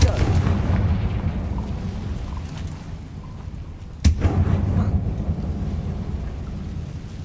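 A fiery blasting spell goes off in the Hogwarts Legacy video game, a single sharp loud burst partway through over a constant low rumbling game ambience.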